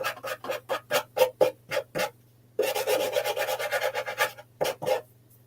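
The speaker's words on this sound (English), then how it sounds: "just a little bit of sanding around the edges kind of gives it a little bit of that rustic" Hand sanding along the edges of a wooden table for a rustic finish: a run of short, sharp rasping strokes, then a longer continuous scrubbing passage, then a few more quick strokes, all close and clear.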